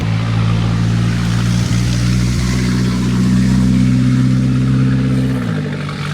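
Loud, deep droning exhaust of a straight-piped Chevy Blazer with no catalytic converter, a steady low rumble nearby that holds for several seconds before the pitch drops as it passes.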